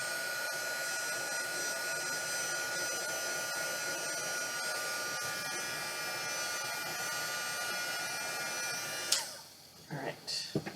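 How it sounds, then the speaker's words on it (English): A heat tool blows hot air over a Dollar Tree tinsel stocking, a steady close whirring hiss that runs unbroken for several seconds before cutting off into a few soft handling noises. "all of this can be cleared up with a heat tool"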